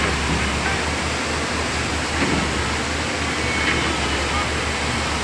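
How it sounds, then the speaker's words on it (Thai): Strong floodwater in Kosum Phisai rushes steadily, a loud continuous broadband roar like a torrent, unbroken for the whole stretch with a faint low rumble beneath. "น้ำไหลแรง"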